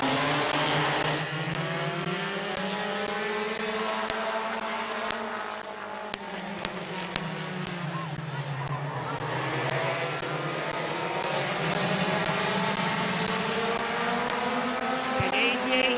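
Compact race cars roar past one after another during a heat race at Midvale Speedway, engines rising and falling in pitch as they sweep by, loud and steady with a commentator's voice over the PA.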